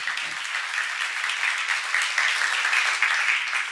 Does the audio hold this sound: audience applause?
yes